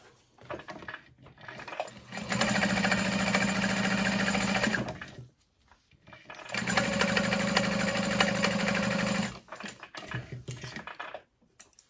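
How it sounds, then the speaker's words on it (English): Sewing machine top stitching along the folded edges of a fabric bag strap, running in two long steady bursts of several seconds each with short pauses and fabric handling between, close and loud. "then we'll top stitch along either side"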